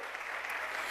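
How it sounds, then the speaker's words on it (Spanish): A church congregation applauds, a dense steady wash of clapping that lasts under a second. "Démosle ese aplauso al Señor bendito."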